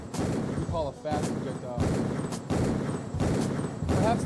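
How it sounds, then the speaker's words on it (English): Projectile weapons firing in the Animal Arena video game: a rapid series of gunshot-like bursts repeating at regular intervals, loud and close, with short whooshing sweeps between shots and no talk. "right now he's capable of firing a projectile in the air, and he's capable of firing straight, what we call a fast projectile"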